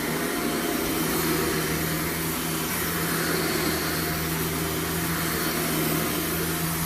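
Vacuum cleaner running steadily on soiled carpet after a CRB agitation pass, a loud continuous motor whine with a low hum that holds unbroken throughout, no talking.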